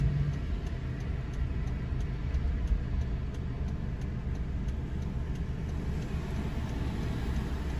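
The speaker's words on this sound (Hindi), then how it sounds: "इंडिकेटर दे रखा है" A car's turn indicator ticks at an even, regular pace, faint beneath a steady engine hum and road noise.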